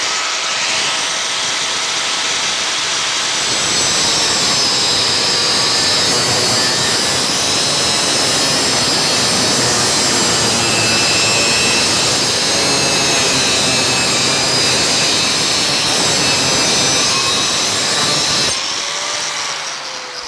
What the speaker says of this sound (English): Now, the angle grinder can be dangerous if you are not using it correctly.